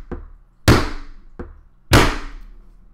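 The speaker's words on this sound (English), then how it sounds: "and I'm doing this with a meat tenderizer." Meat tenderizer strikes the top of a metal spoon-fork stirring device twice, each sharp loud clang preceded by a lighter tap, ringing briefly before fading; close and alone.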